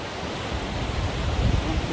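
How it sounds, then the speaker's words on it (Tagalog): Strong sea waves roll onto a Boracay beach on Panay Island, a steady, loud wash of surf and rushing water close by with no voices. "ang waves ng dagat."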